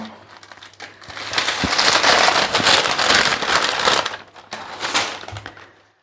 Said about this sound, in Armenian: Հենա նորից անձրևը սկսեց։